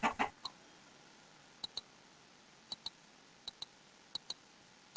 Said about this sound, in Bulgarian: Дей бе, кокошка!